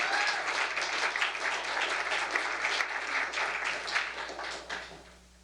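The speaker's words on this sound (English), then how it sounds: "We can applaud again." An audience at a lecture applauds with sustained, dense clapping that holds steady and then tapers away near the end.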